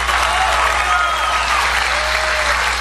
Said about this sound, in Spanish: Un aplauso fuerte a María del Rosario Guerra.